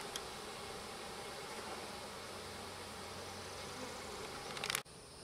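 Package honeybees buzz at the hive during an installation, a soft continuous hum of many bees close by, ending with a brief rustling bump.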